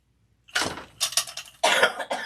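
A woman coughs in a few hoarse bursts, close and fairly loud, with short pauses between them, heard over a quiet indoor room.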